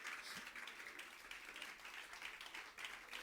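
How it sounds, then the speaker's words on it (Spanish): A congregation claps in a church service, a faint, fairly distant wash of steady applause lasting a few seconds. "Dale un aplauso fuerte al Señor."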